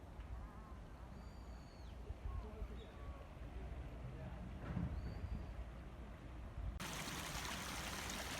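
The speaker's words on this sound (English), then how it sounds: "What is it about running water that's just lovely to hear?" A stream runs with a steady, moderate trickling wash of water, while a few faint bird chirps sound over it outdoors.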